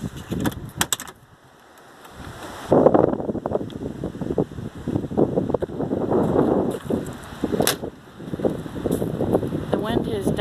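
Blustery wind buffets the microphone at a campground, a steady roaring rush that swells and eases, with a person talking over it for much of the time.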